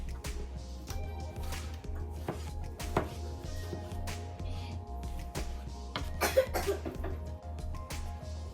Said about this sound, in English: We cut the kale. We try to cut it small.